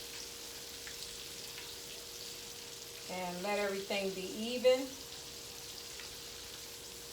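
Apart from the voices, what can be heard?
seafood frying in a pan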